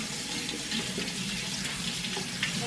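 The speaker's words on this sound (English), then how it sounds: "So I'm just going to run this under the warm tap." Warm water runs steadily from a tap as a vacuum part is rinsed clean, a continuous broadband gush at an even level with no talk over it.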